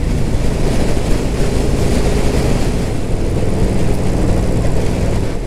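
A 2021 Harley-Davidson Sportster 48 with a 1200 engine cruises at about 75 mph and 3,600 RPM, a loud, steady low engine rumble blended with heavy wind rush, unbroken throughout.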